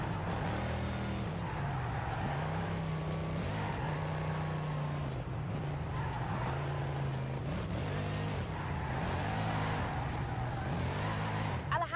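A Diora sports car drifting in Forza Horizon 5, its engine droning steadily with repeated rises and falls in pitch as the throttle is worked through slides.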